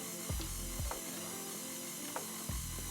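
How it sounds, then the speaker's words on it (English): A stand mixer kneads enriched dough of warm milk and egg with a steady motor whir, broken by periodic knocking thumps as the dough slaps around the bowl. "Now start to knead the dough using a stand mixer"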